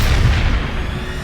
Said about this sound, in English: The explosion you're watching lasted just 4/100ths of a second.